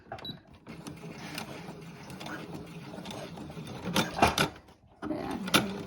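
A sewing machine runs in short stitching bursts while restoring headphones, with rapid mechanical clatter rising louder toward the end and brief pauses between runs, alongside quiet handling noise.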